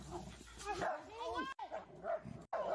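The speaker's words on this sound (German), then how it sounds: "Man sieht hier einfach, wie diese zwei Polizeibeamten auf den armen Hund einprügeln." A dog yelps and whimpers in high, wavering cries while being beaten by two police officers, the cries thin and distant beneath someone talking over them.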